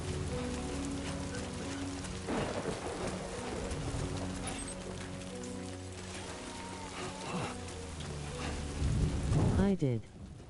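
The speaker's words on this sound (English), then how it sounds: "And now it started raining." Steady rain in Death Stranding 2 hisses throughout, with low rumbling like thunder, sharper splashy bursts near the start and a louder surge near the end, under a busy layer of game music or ambience.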